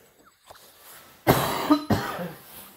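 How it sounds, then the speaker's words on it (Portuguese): A person coughs nearby in a few harsh bursts, two loud hacks close together after some quieter throat noises, with no talk. "Ai, que tosse chata."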